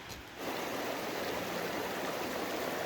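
Steady rushing water of an icy mountain stream in the Tatra Mountains' Kościeliska Valley flowing over rocks, broad and continuous, close by with no voices.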